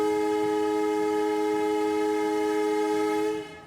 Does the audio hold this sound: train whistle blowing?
yes